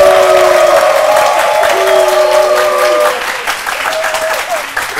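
A TV studio audience applauds director Ousmane Sankara with steady, dense clapping throughout, slightly thinning after about three seconds, with tonal music-like lines underneath.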